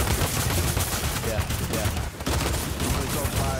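Tactical assault rifle in a video game firing dense, rapid bursts almost continuously, loud and close, with a short gap just past the midpoint.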